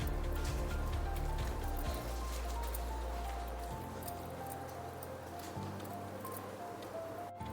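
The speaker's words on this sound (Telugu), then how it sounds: "ఈ ఆనియన్స్ మొత్తం చక్కగా కలుపుకొని ఆనియన్స్ వడియాలు పెడదాం" Hands squish and knead a wet batter of chopped onions and rice flour for onion vadiyalu, a steady soft squelching under a faint background hum.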